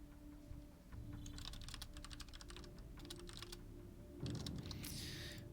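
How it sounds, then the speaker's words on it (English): Steady typing on a computer keyboard, rapid key clicks in bursts over a low background hum, with a brief louder rustle near the end. "If you hear some typing, I do apologize."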